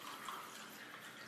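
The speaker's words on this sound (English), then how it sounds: "I'm going to take the tap water again" Tap water runs steadily over a tea bag in a cup, a continuous close splashing pour with no pauses and no voices.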